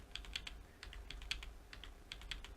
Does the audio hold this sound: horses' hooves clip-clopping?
no